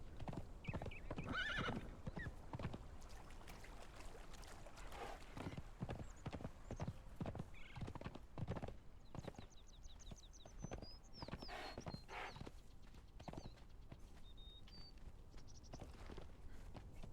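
Horse in the Conan Exiles video game, steady clip-clop of hooves trotting throughout with several whinnies and neighs, close and fairly quiet; a voice speaks briefly near the start.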